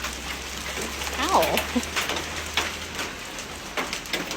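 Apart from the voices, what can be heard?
hail falling outside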